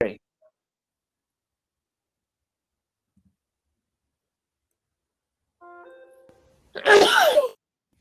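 A long stretch of near silence, then a short hum and a single sharp, loud sneeze close by.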